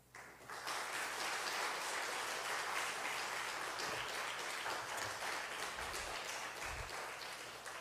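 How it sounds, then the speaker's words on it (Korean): A church congregation claps steadily and fairly loudly for several seconds as the pastor comes forward to preach, the dense applause holding evenly before tapering slightly at the end. "나오실 때 박수로 축복하겠습니다."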